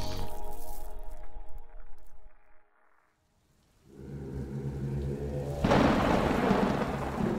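Rain falls on a night street while deep thunder rumbles, dies away into near silence, then swells back as a steady, louder downpour with low rolling thunder underneath.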